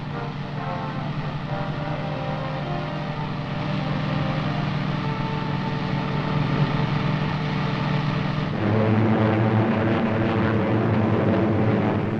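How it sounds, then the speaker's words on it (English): Allied warplanes from the Normandy invasion preparations drone steadily in a newsreel soundtrack, a continuous loud engine roar that shifts in pitch and swells slightly near the end, with no speech. "Through all the days of preparation, Allied planes, thousands of them, continued to soften enemy defenses and communications in daily raids."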